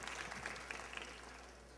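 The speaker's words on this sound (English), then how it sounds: "Let's give her a round of applause" A convention audience applauds a special guest on stage: steady, fairly faint clapping from a crowd with a few distinct sharp claps, tapering off over a couple of seconds.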